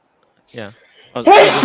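A single sharp sneeze from a man, close and loud, between bits of conversational speech.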